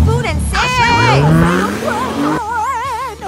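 A car drives and then brakes, with tires squealing and skidding as it slows. Excited voices talk and shout over the sliding sound.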